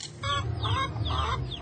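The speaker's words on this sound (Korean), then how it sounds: "갑자기 들려오는 닭 울음소리" A chicken aboard a boat on Cambodia's Tonle Sap, calling out in a loud, close series of strained, warbling crowing notes that repeat over a low background rumble.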